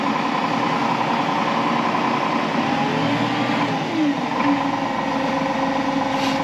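A Fendt 209 Vario tractor engine idles with a steady low hum and a faint higher whine, with subtle shifts in pitch partway through and no talk.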